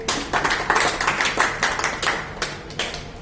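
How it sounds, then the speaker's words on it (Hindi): Clapping for someone at a wellness event, several hands in uneven bursts, moderately loud and close, with no talk over it. "जोरदार तालियां इनके लिए।"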